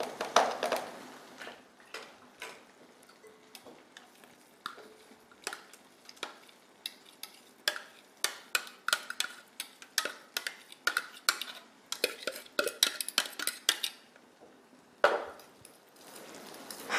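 Meat going into a hot pan for a Tajine El Bey and being stirred, with clinks of a utensil against the pan and soft sizzling, the scraping loudest in bursts toward the end.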